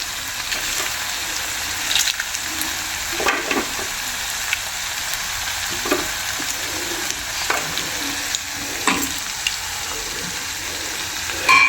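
Dried red chillies and curry leaves frying in oil as a tempering for mango pulissery, a steady close sizzle with occasional louder crackles and stirring sounds, no talking.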